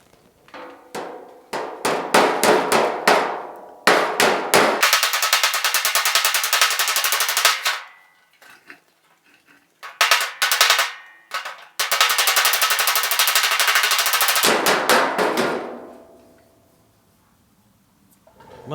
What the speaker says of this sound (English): I'll use this hammer where I can reach down and just tap on the top of that ridge right there